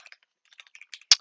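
Quick bursts of keystrokes clatter on a computer keyboard, a few scattered light taps followed by a short run of louder, closer clicks.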